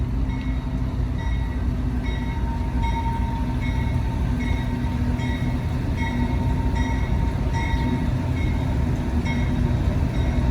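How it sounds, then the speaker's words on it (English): A long freight train with several locomotives, including a slug unit, rumbles steadily past along a street with continuous rolling wheel noise and rhythmic clacking of cars over the rails, loud and close throughout. "here comes the train"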